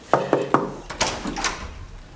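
A door in a school setting is knocked on or handled, with three sharp knocks followed by a rattle and thud as it opens. The sounds are close and moderately loud against a quiet room.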